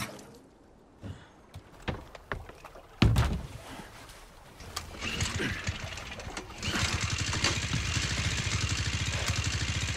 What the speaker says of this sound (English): Damn, that engine is loud.